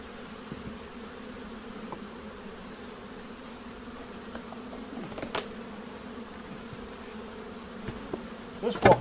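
Honeybees buzz steadily around an open long hive being reassembled, a low continuous hum close by with occasional louder passes and faint knocks.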